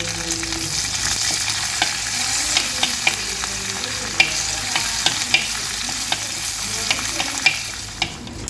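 Curry leaves hit hot oil already holding popped mustard seeds and garlic in a pan for a Kerala chundanga curry, producing a continuous close sizzle dotted with sharp crackles and spits throughout.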